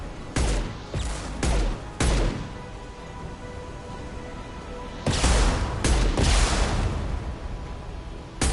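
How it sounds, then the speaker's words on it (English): Concussive shots in Mass Effect 2: heavy booming blasts, several in quick succession at the start and another cluster midway, each sharp impact trailing off into a rumbling wash of combat noise. "Firing concussive shots!"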